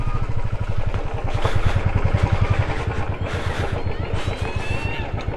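A Benelli Imperiale 400 motorcycle engine chugs steadily at close range with a rapid, throbbing rhythm, while voices talk over it.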